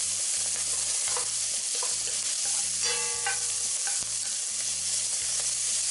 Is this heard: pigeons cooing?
no